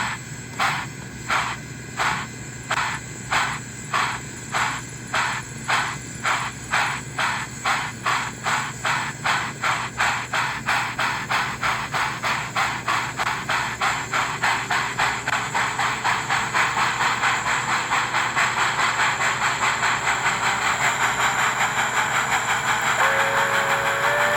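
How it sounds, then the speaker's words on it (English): An American Flyer model steam locomotive, run through a Rail Pro sound board, chuffs in distinct puffs that speed up steadily into a rapid, continuous beat over a constant hiss, with a faint whistle-like tone near the end. "We're chuffing, baby. We're chuffing."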